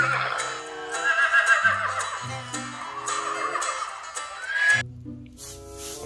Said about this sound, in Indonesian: di sini kita menemukan ini kuda